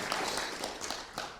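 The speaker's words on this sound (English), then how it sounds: "So please give Oleg an applause here on the screen." A conference audience at the SDRA'22 event claps for a speaker in a short burst of dense, fairly close applause that stays even across its length.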